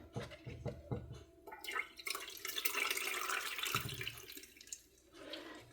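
Water splashes and trickles as purple heart plant cuttings are set into a container of water, close-up sloshing and dripping bursts separated by brief pauses, with no speech.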